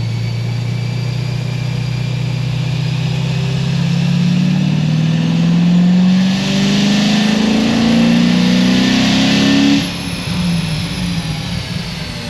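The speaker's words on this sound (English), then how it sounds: "Well, this thing has a misfire or something on passenger side." An LS7 V8 with titanium rods and light cast pistons revs up in a steady rising pull, its note uneven and stumbling from a misfire on the passenger side, then drops back to a rough idle.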